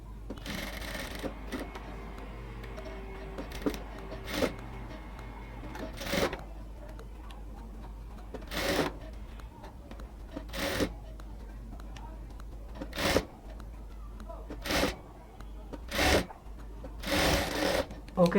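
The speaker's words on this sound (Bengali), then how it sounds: "পুরো গলাটাকে আমরা চাপ সেলাই দিয়ে দিলাম" A sewing machine top-stitches all the way around the neckline of a dress made from a saree, running in short bursts separated by pauses, with a person talking throughout.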